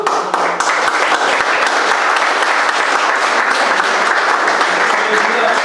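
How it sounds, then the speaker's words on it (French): Sustained loud applause from an audience, steady clapping filling the space throughout with no pauses. "vous pouvez les applaudir très très fort"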